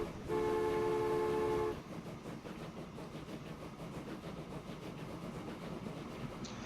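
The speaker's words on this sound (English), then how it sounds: "Okay, the train is coming, but we don't have the money" A train in a video game blows a steady horn tone, then rolls past with continuous rumbling and clattering of wheels on rails, fairly loud and close, with no talking.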